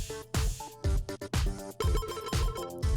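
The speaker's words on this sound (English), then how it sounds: "is that like a phone call beep?" A repeating electronic ringtone-like beeping tone, loud and close, sounding in short bursts with brief gaps between them.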